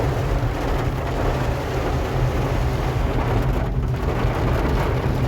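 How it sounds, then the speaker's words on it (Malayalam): Heavy rain pours down during a drive, a dense, steady roar with low rumbling beneath that holds constant throughout and has no voices over it. "ഇത് നല്ല മഴ കേട്ടോ"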